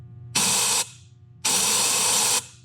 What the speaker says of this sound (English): we got lots of air coming up through the gun and out the back of the gun right here.